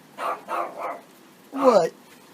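A dog barks in short bursts on a rainy day, three quick barks followed by a louder, harsher one, close and prominent.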